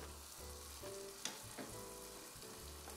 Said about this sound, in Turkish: piliç panelerimiz güzelce ısınırken, pişerken şöyle tavada